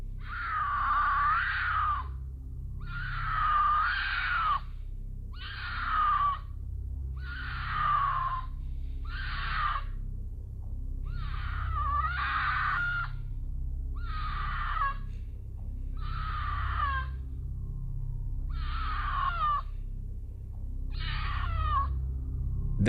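Eerie animal screams, thought to be a mountain lion in the wilderness, come as about eleven loud, drawn-out shrieking bursts at fairly regular intervals over a steady low hum.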